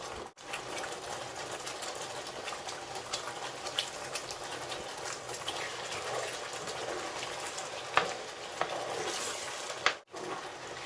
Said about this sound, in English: I'm going to fry the stew a little bit before I will add other things to it